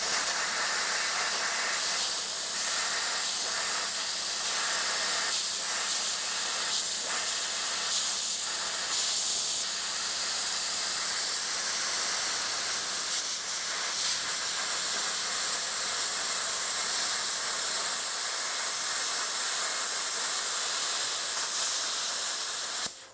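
A Vevor 50A non-touch plasma cutter set to 35 amps cuts through metal with a loud, continuous airy hiss that holds steady for over twenty seconds before stopping abruptly.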